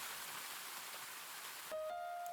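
Steady rain falling in the visual novel game Ame no Marginal, a broad even hiss that continues alone for about two seconds before a faint tone appears.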